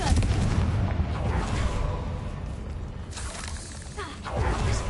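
Confringo fire spell in a Harry Potter video game bursts into a heavy, booming blast with crackling, shattering debris, then a second whooshing burst near the end.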